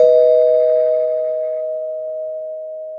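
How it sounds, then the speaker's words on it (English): A spoiler bell sound effect on a comic book podcast: a single clear, loud bell tone struck once and left to ring, fading slowly over about three seconds with no talking. "I'm going to ring the spoiler bell."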